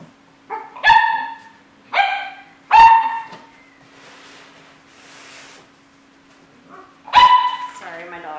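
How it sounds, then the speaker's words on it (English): A dog barks several times close by, sharp loud barks in a short burst, then a pause and one more bark, with a low steady hum beneath. "Sorry, my dog's barking."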